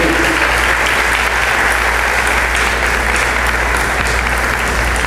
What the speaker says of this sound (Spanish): Un fuerte aplauso para nuestro expositor.